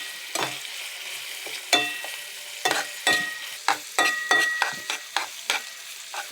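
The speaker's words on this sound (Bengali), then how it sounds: "বাটা মশলা, গুঁড়া মশলা একটু নাড়াচাড়া করা হচ্ছে।" Ground spice paste being stirred in a hot pan with oil, after bay leaf, cloves, cardamom and cinnamon, a spoon scraping in repeated strokes over a low sizzle, close and clear with no talk.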